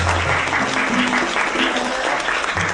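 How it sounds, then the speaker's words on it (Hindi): Applause for two students in a classroom scene from a Chinese drama: a steady burst of clapping from a group, loud and close, lasting the whole moment without pause. "चलो तालियां बजाओ इनके लिए।"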